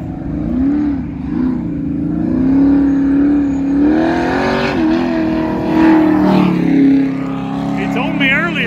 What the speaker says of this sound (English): Suddenly, it's a drift vehicle.